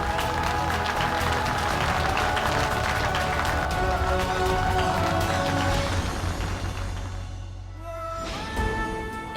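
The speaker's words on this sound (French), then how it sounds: "Je vous demande d'applaudir mon épouse" An audience claps for a man's wife at a ceremony in a French-dubbed drama series, sustained applause layered over a swelling music score that fades out near the end.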